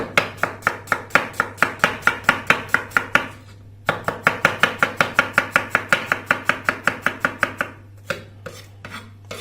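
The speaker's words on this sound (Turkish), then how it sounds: "Soğanlarımızı istediğiniz gibi kesebilirsiniz. Soğanları doğrama işlemimiz bitti." A knife chops onions on a board in fast, even strokes, two long runs of steady thuds separated by a short pause, then a few slower cuts.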